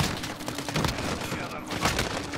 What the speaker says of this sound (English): Alright, now we got the shotgun.